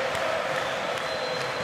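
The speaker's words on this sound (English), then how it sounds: "There's the noise levels increasing." A basketball arena crowd at a FIBA AfroBasket 2017 semifinal between Morocco and Tunisia roars in a steady, dense wash of cheering that holds loud and continuous throughout, with no distinct voices standing out.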